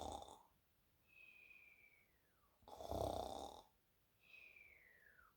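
A voice imitates snoring: breathy, rasping inhales alternate with whistling, falling exhales, repeating twice at a quiet, close level with no other sounds.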